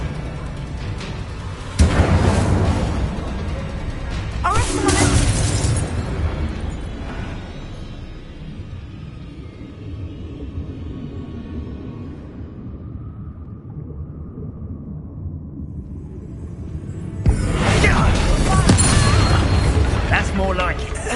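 A blazing Incendio fire spell blasts in Hogwarts Legacy, with heavy booming bursts at the start and end of a long stretch of game sound and a voice heard over it.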